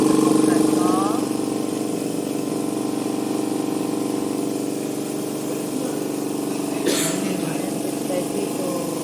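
An air compressor for an electro-pneumatic system runs steadily at close range, with a loud continuous mechanical drone that eases slightly after the first second and a brief hiss of air near the seventh second.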